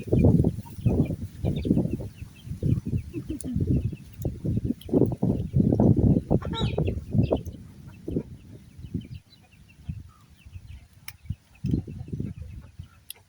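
Chickens clucking on a rural Thai homestead, a run of close, loud clucks and squawks in quick irregular bursts, easing toward the end with a few sharper calls.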